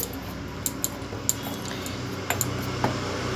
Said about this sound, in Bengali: সব উপকরণগুলো ভালো করে মিশিয়ে নিচ্ছি।